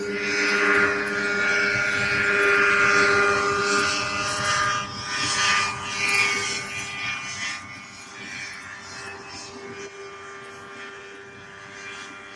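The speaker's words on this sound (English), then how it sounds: "So we've got a Grumman albatross out in the distance." A Grumman Albatross amphibian aircraft passes in the distance at an Oshkosh airshow, its propeller engines making a steady droning hum that slowly fades over several seconds, with faint crowd murmur behind.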